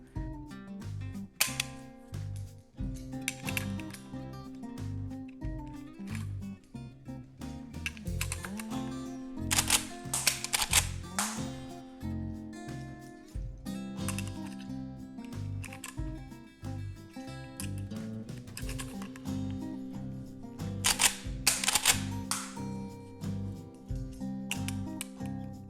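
Lever action rifle worked in dry fire, repeated mechanical clacks and metallic cycling of the action at close range, coming in irregular bursts with no talk.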